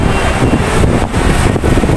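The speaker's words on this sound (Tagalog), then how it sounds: "Sobrang mahangin." Strong wind batters the microphone outdoors near the IFC Mall, a loud, rumbling roar that briefly dips and surges.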